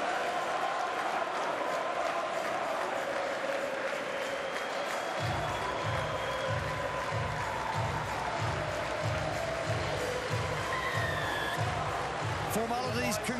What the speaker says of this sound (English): 13 seconds applause now